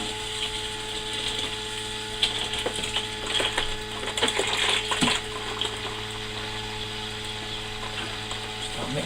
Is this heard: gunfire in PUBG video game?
no